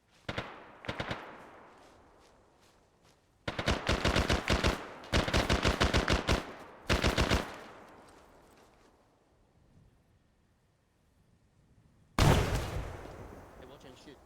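Gunfire in the video game Arma 3 during an Antistasi event operation: several rapid automatic bursts and a few single shots, loud and close, separated by quiet gaps, with a final heavy blast at the end.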